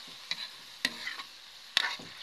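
A halang-halang dish is stir-fried in a pan, heard as three sharp utensil scrapes and clatters against the pan over a low sizzle, close and without talk.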